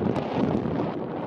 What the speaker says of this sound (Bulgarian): Духа силно вятър, жалостно.